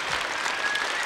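A theatre audience at a 2004 comedy concert breaks into dense, loud applause, a continuous wash of many hands clapping throughout.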